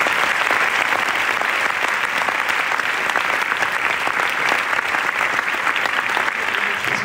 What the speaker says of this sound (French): On peut applaudir l'équipe aussi